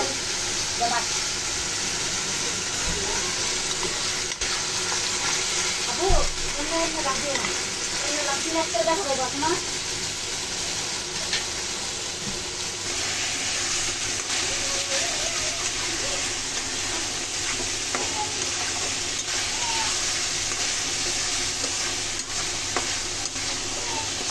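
Dried fish (shutki) cooking in a pan, giving a continuous close sizzle and frying hiss with occasional stirring scrapes, while a voice talks quietly at times.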